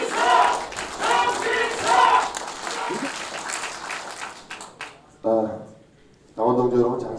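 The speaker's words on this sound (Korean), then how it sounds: "정진석 후보께 다시 한번 큰 박수를 보내주시기 바랍니다." A political party rally crowd applauds a gubernatorial candidate, scattered clapping and cheering running under a loud amplified speaker's voice, with the speech breaking off briefly before resuming.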